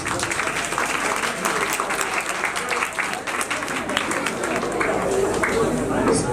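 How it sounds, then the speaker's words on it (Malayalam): An audience at an Onam cultural programme claps in sustained, dense applause from many hands, loud and continuous, with voices mixed in over it. "നല്ലൊരു കൈയടി കൊടുക്കാം"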